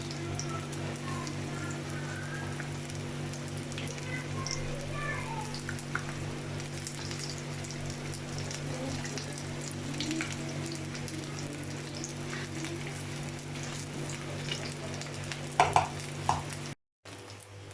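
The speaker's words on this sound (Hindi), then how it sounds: "इस तरह से एक एक डालते जाना और मीडियम फ्लेम पे हम इसे फ्राई कर लेंगे" Chicken pakoras coated in gram flour frying in oil over a medium flame, giving a steady, even bubbling hiss with faint tapping on top and a brief drop to silence near the end.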